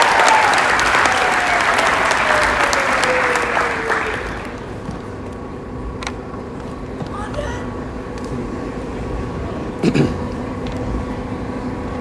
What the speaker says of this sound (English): So give a big, loud, proud round of applause for Mr.